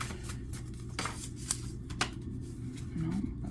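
Tarot cards are shuffled by hand, giving a few soft papery riffles and sharp snaps spaced irregularly over quiet background noise.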